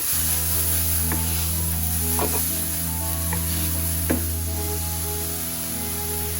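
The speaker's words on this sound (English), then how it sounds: "So I've added some lardons here." Smoky lardons for a Guinness beef stew sizzle steadily in a pan, a loud continuous frying hiss with a few light clinks and stirs, and no talking.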